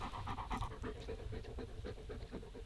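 A tired dog pants hard after more than two hours of chasing a ball at a hunting camp, giving a steady run of quick, close breaths with no talk over it.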